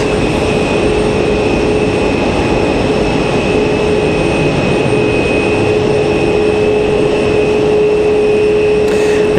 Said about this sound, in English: Looks like American Airlines 1566 coming in from Miami.